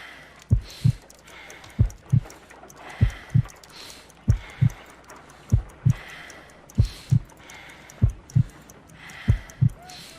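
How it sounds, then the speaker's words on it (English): Slow, weak heartbeat counted in Sherlock Holmes: Crimes and Punishments, a steady paired lub-dub thumping about ten times, close and clear over a soft hum, with no talking. "I need to concentrate and count the heartbeats."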